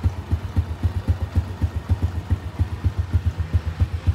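Original-exhaust engine of a 1994 Thai-built Honda Dream motorcycle idling close by, a steady low putter of rapid even pulses with no talk over it.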